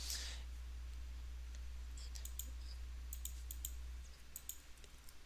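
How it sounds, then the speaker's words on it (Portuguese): A password being typed on a computer keyboard, with quiet, scattered key clicks in short bursts over a low steady hum. "digitar aqui a senha, enviar."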